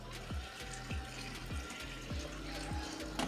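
Water runs steadily from a tap into a cooking pot holding chicken, half an onion and tomato halves, a continuous close splashing stream with faint clinks, no talk.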